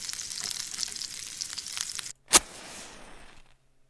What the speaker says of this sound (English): That's bacon being cooked.